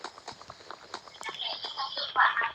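Horse hooves clip-clop in the Minecraft video game, a run of light, evenly spaced hoofbeats close up, with game sounds and soft voices in the background.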